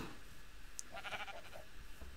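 A Minecraft sheep bleats a few wavering times on a farm, moderately loud over a steady background hum.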